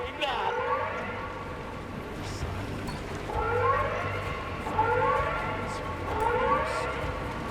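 A red warning siren blares in the video game Pacific Drive, rising and falling in three or four repeated swells over a steady low drone, with a voice talking faintly underneath.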